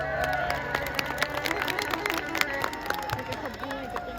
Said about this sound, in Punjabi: ਆਖਰੀ ਟਰੱਕ ਡਰਾਈਵਰ ਵੀਰਾਂ ਦੇ ਨਾਂ ਤੇ ਜ਼ੋਰਦਾਰ ਤਾੜੀ